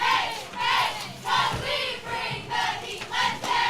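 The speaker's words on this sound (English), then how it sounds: "We can hear the fans yelling." Football fans at a high school game yell and cheer from the stands in continuous rising and falling waves, a loud crowd roar with no pauses.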